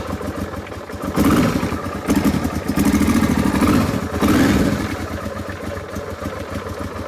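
A motorcycle that has stood in the sun starts and runs; the engine idles with a rough, clattering putter, swells in a few short revs, then settles back to a steady idle nearby.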